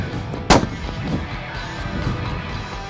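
A Browning X-Bolt fires one long-range rifle shot at a 900-yard target outdoors. The single sharp crack stands out clearly near the start, followed by a brief echoing tail and faint outdoor background with no voices.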